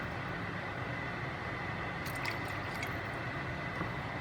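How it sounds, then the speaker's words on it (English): Water pours into a pan of turkey wings, giving a steady close hissing rush of liquid that continues throughout, with a few faint splashy clicks partway through. "I have a cup of water here. I'm going to go in,"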